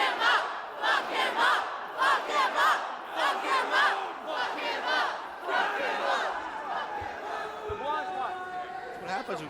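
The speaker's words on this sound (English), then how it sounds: "The crowd demanding that Tony fuck him up." Wrestling crowd roaring and chanting in loud, rhythmic waves of shouting and cheering, dense and continuous across the arena, with a few sharper cries standing out near the end.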